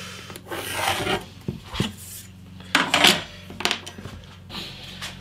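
Pencil drawing a centre line on wood, several short scratchy strokes, close and fairly quiet, with slight rubbing between strokes.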